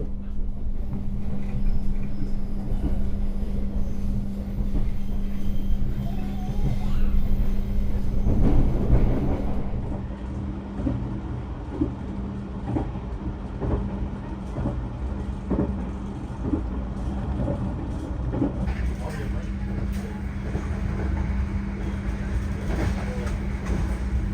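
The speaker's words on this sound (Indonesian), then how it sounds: "Nanti kereta api Sawunggali akan mengambil jalur ke kiri menuju arah Cirebon" The Sawunggalih executive passenger train rolls along its rails near Indramayu, a loud continuous rumble with rhythmic wheel clatter and a steady low hum inside the carriage, with no speech.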